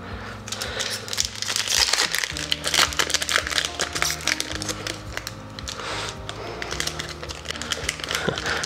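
Crinkling and crumpling of a Magic: The Gathering Ravnica Allegiance booster pack wrapper being torn open, steady close rustle over a low musical background for several seconds.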